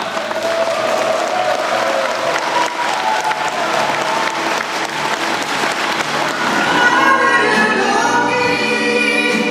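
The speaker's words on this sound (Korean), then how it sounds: "박수로 환영해 주시기 바랍니다." Loud, sustained applause from a large audience welcoming the president at a national ceremony for North Korean defectors, a dense steady roar of clapping that swells slightly toward the end.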